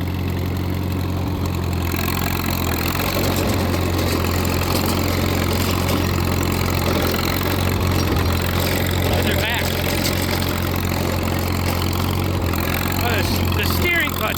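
An old Caterpillar crawler, unmoved for nearly 50 years, runs with a steady low diesel rumble and a constant throb close by, with talk heard over the engine.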